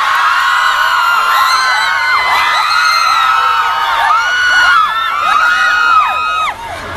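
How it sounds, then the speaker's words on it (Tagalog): A crowd at a live comedy show in Lubao, Pampanga cheers, whoops and screams loudly and continuously, with many overlapping high shouts filling the whole stretch. "sa mga hiyaw ninyo, sa mga palakpak ninyo"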